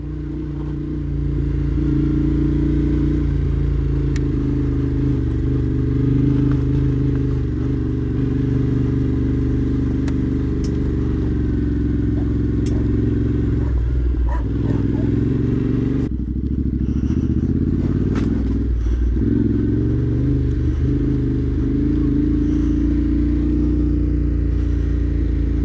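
A Yamaha Tenere 700 motorcycle riding off-road on an unknown dirt track, its engine a continuous loud rumble from close by, with gear changes, throttle swells and rattling clatter over rough ground.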